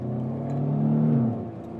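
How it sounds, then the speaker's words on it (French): A simulated Renault Clio Sport V6 engine hums and revs briefly, rising in pitch and then easing off, smooth and fairly close. "je suis sur le son d'une Renault Clio Sport, la V6"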